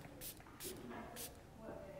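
Hampton Sun setting spray misted lightly onto a face during a makeup application, three short bright hissing spritzes spaced evenly apart, close and clear.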